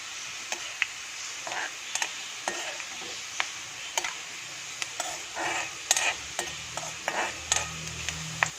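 Chopped onions frying in a pan for a quick rasam, stirred with a spoon that scrapes and taps against the metal in irregular strokes over a steady soft sizzle.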